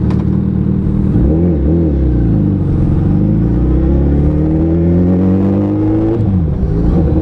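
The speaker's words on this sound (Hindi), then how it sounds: "2008 की जो ऑरेंज हायाबुसा है, लेट्स राइड दिस बेबी" An orange 2008 Suzuki Hayabusa motorcycle, a grey-market limited edition, revs hard as the ride begins. Its loud, close engine note climbs steadily in pitch, dips briefly near the end as if shifting gear, then climbs again.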